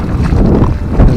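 Gusty wind beside a Highland loch at Loch Garten buffets the microphone in a steady, loud rumble that swells near the end, with no talking.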